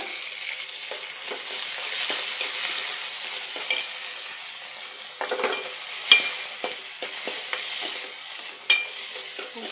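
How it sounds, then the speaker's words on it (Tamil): Tomatoes and onions with a pinch of salt sauté in a pan, with a soft sizzle broken by repeated scraping and clacking strokes of a stirring utensil that come in uneven bursts, close up and without talk. "உப்பு சேர்த்து ஒரு 2 நிமிஷத்துக்கு நல்லா கிண்டி விடுங்க"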